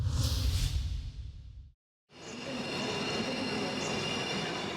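A German passenger train rumbles steadily along the rails, with a brief cut to silence before a continuous rolling roar and faint wheel squeal resumes, close and loud.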